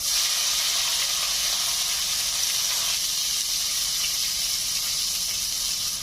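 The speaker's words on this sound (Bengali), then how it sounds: "তেল গরম হয়ে গেছে, এখন ফোড়নে দিচ্ছি একটা তেজপাতা, গোটা সাদা জিরে। দিয়ে দিচ্ছি পেঁয়াজ বাটা" Onion paste hits hot mustard oil with a bay leaf and whole cumin, producing a loud, continuous hissing sizzle that holds steady throughout.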